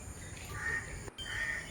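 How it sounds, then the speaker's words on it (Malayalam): Birds call at a distance as they come to roost in the evening, two drawn-out cries standing out over a low, steady outdoor background. "ചേക്കേറുന്ന കിളികളുടെ സൗണ്ടുകളാണ് ഈ വീഡിയോയിലൂടെ പലയിടത്തും നിങ്ങൾ കേൾക്കുന്നത്"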